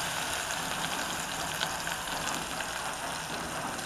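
Chopped onion sizzles in hot cooking oil, a steady dense frying hiss that stays loud and close throughout, with no voices.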